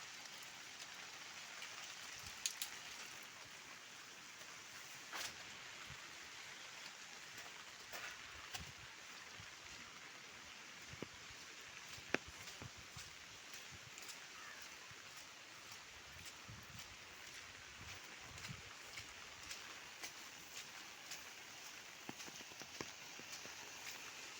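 Rain falls on old houses in Bhor, Pune district: a soft, steady hiss with scattered light drips and taps, distant and even throughout, with no voices.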